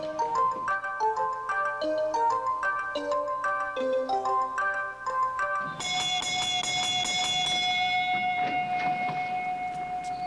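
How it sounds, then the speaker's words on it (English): A shop bell rings out in a steady run of clear metallic tones, then swells into one loud sustained ringing chime that slowly fades, close and without any talk. "there's a bell just like this one on everyone's shop"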